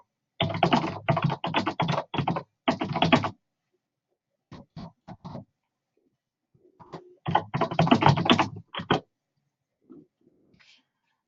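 Bursts of rapid typing on a computer keyboard, with keys clattering close by in two main runs and a few short, sparse taps in between, separated by quiet pauses.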